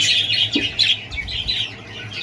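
Pet birds, pied and albino, chirping in a breeding cage, with several quick, fairly close high tweets in a busy, continuous chatter.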